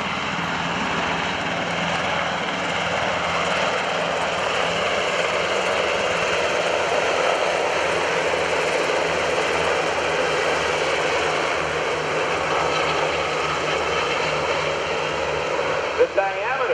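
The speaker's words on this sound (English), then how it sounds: "The helicopter is 65 feet long." A UH-60 Black Hawk helicopter at a 2011 Rhode Island Air National Guard open house and airshow gives off a steady, loud turbine roar and rotor drone, constant throughout.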